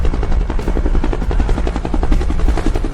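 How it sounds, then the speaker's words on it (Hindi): A cartoon jet aircraft flies across the sky, its engine a loud, continuous rumbling drone with a steady pulsing throb and no voices over it. "चलो एक जेट लेकर आसमान में उड़ते हैं"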